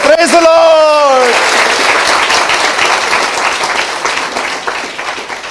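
A church congregation bursts into sustained applause at a sermon, following a voice that calls out over it briefly, then dense clapping that gradually tapers off.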